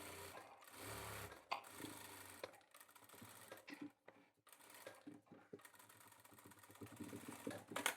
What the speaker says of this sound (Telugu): ఎడ్జ్కి కుట్టు వేసుకోవాలి